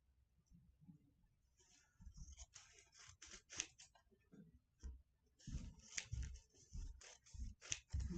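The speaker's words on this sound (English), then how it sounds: "you're going to cut your coffee filters like this." Scissors snip through folded paper coffee filters in a series of close, crisp crunching cuts, some quick and some spaced apart.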